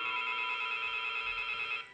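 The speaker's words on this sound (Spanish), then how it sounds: "El timbre del teléfono despierta a Ana Margarita." A telephone rings on a Saturday morning in Kendall, one steady electronic trill lasting almost two seconds before cutting off, clear and fairly close with no talking.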